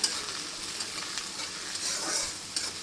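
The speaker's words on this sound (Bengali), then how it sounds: "পেঁয়াজ কুচি দিয়ে মাংসটা ভেজে নেব একটু টমেটোও দিয়ে দিচ্ছি পেঁয়াজের সঙ্গে" Meat sizzles in a pan with chopped onion and tomato, a bright, crackling fry stirred now and then, close and steady for a few seconds.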